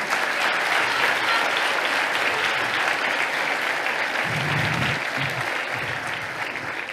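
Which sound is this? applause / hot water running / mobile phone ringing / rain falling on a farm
applause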